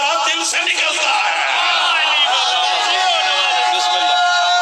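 The audience at a majlis shouts slogans in loud unison, a dense, sustained roar of many voices close by with rhythmic swells.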